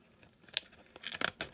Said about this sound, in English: Got some lightweight plastic here, which I use to test some scissors.